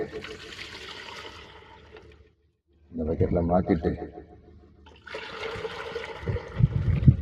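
Fish amino acid liquid pours into a bucket in two sustained splashing, rushing bursts, with a person talking in the gap between them.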